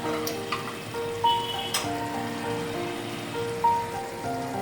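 Mixed vegetables cooking in ghee on low-medium heat in a pan: a steady, close sizzle with scattered pops and crackles throughout, and no voices.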